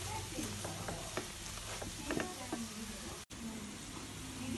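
Chicken frying in a pan for Telangana-style juttu kodi fry as red chili powder is stirred in: steady close sizzling with repeated scraping and stirring strokes.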